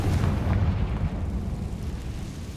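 A spell explosion from the Hogwarts Legacy video game, a Confringo or Bombarda blast: a loud, heavy low-frequency boom that rumbles and slowly decays over a few seconds, alone without voices.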